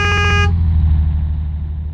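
A car horn honks in a horror video game about mimics disguised as humans, a loud steady blare with bright stacked tones for about half a second, then cutting off into a low rumbling engine drone.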